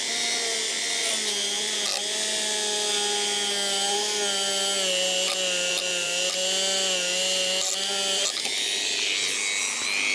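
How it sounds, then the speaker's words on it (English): A Dremel rotary tool with a wire brush attachment scrubs parts of a 1964 black panel Fender Deluxe Reverb amp, a close high-pitched whine that runs steadily and shifts pitch slightly under light contact. "I'm just going to now get my little wire brush thing happening on my Dremel"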